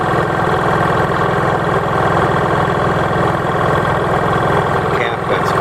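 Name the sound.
Honda EU3000is generator running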